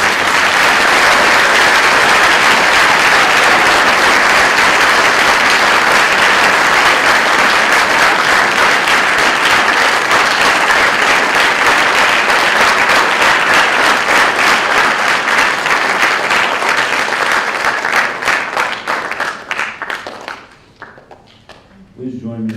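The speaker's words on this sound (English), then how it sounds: "Please join me in another round of applause for this quote." Audience applause at a Veterans Day program, a loud, sustained roar of clapping that settles into a more rhythmic, unified beat before thinning into scattered claps and fading near the end.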